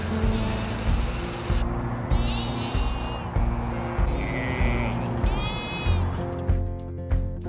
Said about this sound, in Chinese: 在围满了路人的铁栏杆外和绵羊们说晚安。